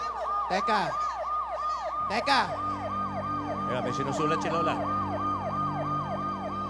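A police siren wails in a fast, repeating yelp cycle, loud and close, while people talk over it.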